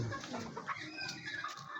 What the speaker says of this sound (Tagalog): Yan yung manok ng Jason.